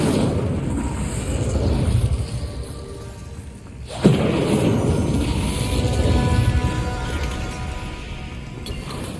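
A spell blast bursts with a sharp crash about midway in Hogwarts Legacy, over a dense rumbling game soundscape with no voices.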